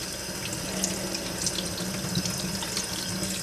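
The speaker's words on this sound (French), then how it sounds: "Je pense que l'eau aide à faire glisser un peu le corps" Tap water streams steadily into a sink while squid is rinsed under it for a persillade dish, a continuous close hiss and splash with no talking.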